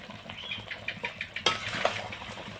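Mango pickle simmering in sugar syrup with chilli and turmeric powder is stirred in a pot, giving a run of soft, rhythmic scrapes and clinks of a spoon against the metal, with one sharper knock partway through.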